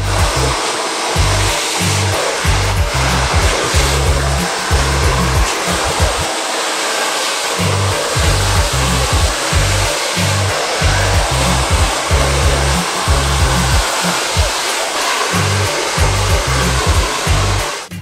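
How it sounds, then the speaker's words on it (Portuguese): A hair dryer blows steadily and loudly close by during a haircut, its airflow roaring continuously with a pulsing low rumble throughout, with no talking. "eu gosto de virar o secador aqui, porque ele faz a sucção do ar"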